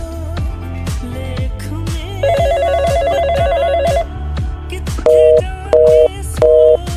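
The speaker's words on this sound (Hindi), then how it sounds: "ये फोन क्यों नहीं उठा रही?" A telephone ringing unanswered, with a rapid trilling ring and then three evenly spaced repeating ring bursts, loud and close over a steady rhythmic music beat.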